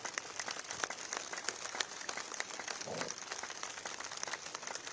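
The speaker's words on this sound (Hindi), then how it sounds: "एक ताली थोड़े बजाए आनंद से, बहुत स्ट्रेस आउट करेंगे, अच्छे से स्ट्रेस आउट, जोर से ताली" A crowd at an outdoor International Yoga Day event in Delhi claps together, a fairly faint, continuous patter of many hands with a brief burst of voices partway through.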